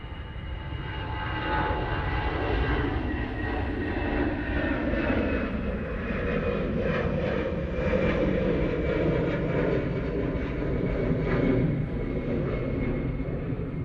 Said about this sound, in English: EasyJet to Amsterdam. Now on the roll, chasing down that RyanAir. Using a little 319 for this.